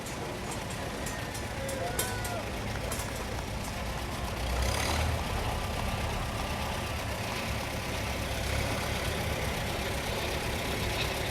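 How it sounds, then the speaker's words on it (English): A red Farmall tractor rumbles steadily past at close range, its engine drone thick and continuous, swelling slightly midway, with a steady hiss of outdoor noise and faint voices underneath. "Dave's proud to be driving a farm mall. He's not going to claim ownership, it looks like. But it's a nice red tractor."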